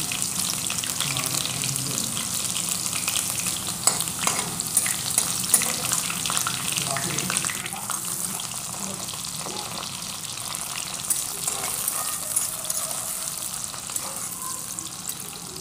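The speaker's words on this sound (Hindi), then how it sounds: "झटपट से मैंने जीरा प्याज लहसुन मिर्ची डाल दिया है" Cumin, onion, garlic and green chili fry in a pan in a home kitchen, giving a loud, steady sizzle with occasional stirring clatter throughout.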